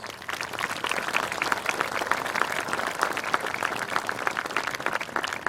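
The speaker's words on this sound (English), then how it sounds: "Can we give them please a round of applause?" A large crowd applauds at a high school graduation ceremony, a continuous, fairly distant roll of many hands clapping without pause.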